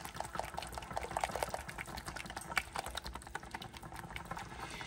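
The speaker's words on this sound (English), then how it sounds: "we want to whisk that really well to get all those lumps out of there" A powdered sugar mixture is whisked briskly in a bowl, a rapid, continuous clicking and sloshing rhythm that stays close and even throughout.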